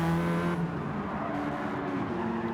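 A Radical SR3 race car in Gran Turismo 7 roars close by, its engine note steady, then cutting out briefly before revving again in a loud whirring drone, with no voices.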